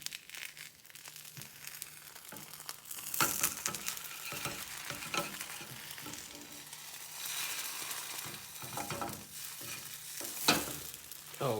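Egg white omelette sizzling in a frying pan, a steady close crackle with scraping and a louder clatter and shuffle as it is flipped, no voices.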